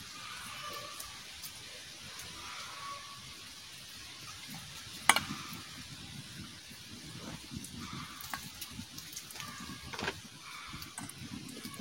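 Egg masala, eggs coated in spice paste, sizzles softly in a frying pan, a quiet steady crackle with one sharp pop midway and light stirring noises.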